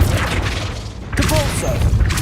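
Spell effects in the video game Hogwarts Legacy: a booming blast and crashing impact, followed by whooshing magical bursts, loud and dense, with a voice speaking over parts of it.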